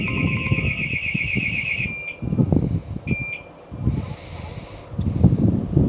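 A Centinel-Pod rapid deployment alarm pod with a Hikvision AXPro system goes off nearby with a piercing, loud siren tone that starts and stops in bursts, under rustling and handling noise.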